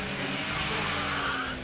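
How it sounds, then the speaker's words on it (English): A bus nearly hits a car in a video game car chase, with a sustained loud tire skid and engine roar that swells and fades over under two seconds. "Stupid bus almost ran into us."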